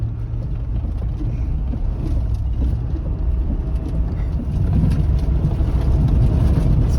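A Ford Tremor truck drives off-road through mud and wet ground in the Black Hills, its engine rumbling steadily and close with a low, continuous drone that swells slightly louder toward the end, with no voices.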